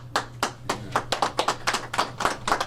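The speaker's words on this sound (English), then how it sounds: "The one intern trying to start a clap and you get like two people." A few people clap sparsely and unevenly, thin scattered hand claps with gaps between them, close and without any other sound.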